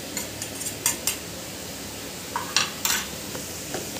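Garam masala, turmeric and salt sautéing in a pan, a low sizzle under scattered clinks and scrapes of a spoon against the metal in quick clusters, heard close with no voices.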